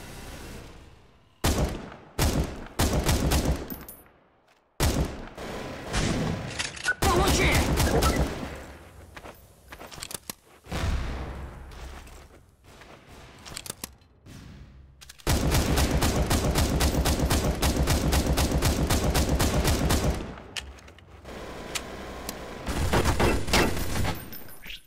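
Gunfire in Counter-Strike: Source, with dense bursts of automatic fire and rapid shots in repeated volleys, some long sustained strings, loud and close with short silent gaps between.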